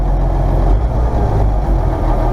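An Ursus 1204 tractor engine, overhauled the previous year, runs smoothly at a steady idle nearby, a loud continuous low diesel rumble with no variation.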